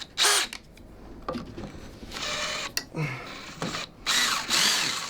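A power drill whirs in several short bursts, starting and stopping at varying lengths, close and loud, with faint clatter between runs.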